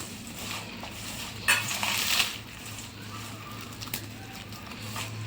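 Bhel puffed-rice snack being stirred with red chutney in a bowl, a soft steady crunching rustle with a couple of brief louder scraping bursts near the middle, close-up and without speech.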